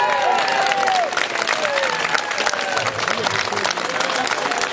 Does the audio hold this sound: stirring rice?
no